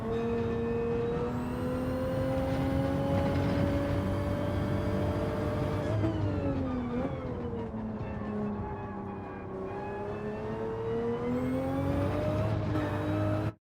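A race car engine in Gran Turismo 7 drones loudly and continuously, its pitch climbing and dipping with throttle and gear changes, with no talk over it.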